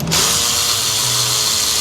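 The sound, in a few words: power tool unbolting Ford 5.4 power steering reservoir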